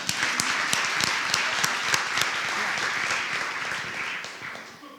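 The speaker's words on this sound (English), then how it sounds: "So maybe we should clap again when she could hear it." An audience at a conference session breaks into steady, dense applause, many hands clapping together at close range and fairly loud throughout, easing slightly near the end.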